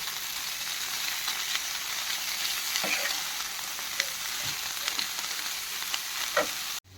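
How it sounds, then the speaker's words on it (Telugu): Onions with amaranth leaves stir-frying in a pan, a steady close sizzle with occasional scraping stirs, ending abruptly. "ఈ స్టేజ్లో ఉన్నప్పుడే మనం తోటకూర అంతా యాడ్ చేసేసుకోవాలి యాడ్ చేసుకొని ఒకసారి కలిపి మూత పెట్టి మగ్గించుకోవాలి"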